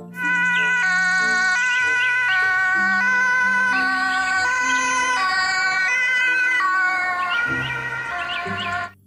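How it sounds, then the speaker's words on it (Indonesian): A toy ambulance plays its electronic siren as a stepping, melodic warble of tones that repeats loudly and continuously for several seconds, then cuts off abruptly. "Yang ini mobil ambulans."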